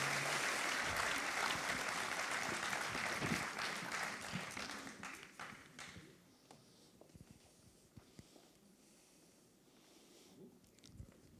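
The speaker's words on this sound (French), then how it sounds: "qu'on les applaudisse" Applause from an audience at a business awards ceremony as people are called up on stage, dense and loud at first, then thinning into scattered claps that fade out over the second half.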